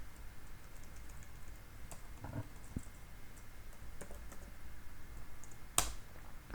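Keystrokes on a computer keyboard as a model name is typed, sparse quiet clicks with a few sharper taps and one louder strike near the end, over a low steady room hum with no talk.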